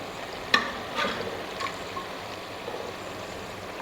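Boiled mutton chops stir-fried (bhuna) in a hot pan, a soft steady sizzle close by with a few light clinks of the spoon, fairly quiet and without talk.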